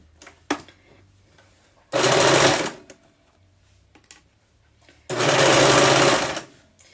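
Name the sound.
sewing machine stitching a fabric pillowcase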